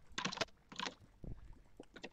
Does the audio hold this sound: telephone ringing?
no